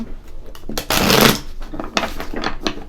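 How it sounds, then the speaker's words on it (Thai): Fortune-telling cards handled and shuffled for a Thai astrology reading, a burst of riffling flutter at mid-volume with softer taps and card slides around it, no voices. "แล้วก็เดี๋ยวขอหยิบไพ่นะคะ"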